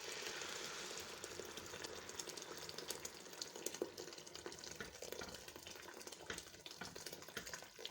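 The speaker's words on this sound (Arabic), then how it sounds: "وهنزل بسم الله الرحمن الرحيم بالميه السخنه." Hot water pours into a pot of grain, turmeric and curry powder, a steady splashing, bubbling stream that runs close and continuous throughout.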